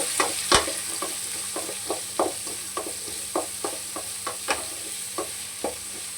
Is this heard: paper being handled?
no